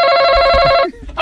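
A telephone rings in a steady electronic trill for under a second, loud and close, then cuts off.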